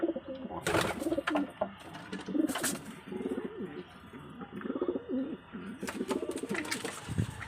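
Pigeons cooing close by, with repeated throaty rolling coos overlapping each other continuously, plus a few wing flutters and rustles in between.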